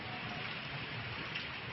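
Rain brought on by a western disturbance in India falls steadily, a dense, even hiss with no breaks or other sounds standing out.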